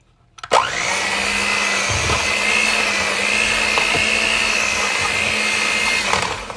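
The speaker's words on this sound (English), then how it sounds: "I'm just going to combine this sugar and this butter and mix it" An electric kitchen mixer creams sugar and butter together for a from-scratch coconut pound cake, starting abruptly and running as a steady, loud whirring drone for several seconds with a few faint bumps of the beaters against the bowl.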